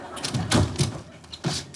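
An interior door is opened in a home, with a few dull thuds and knocks from the handle and frame. Muffled voices sit underneath.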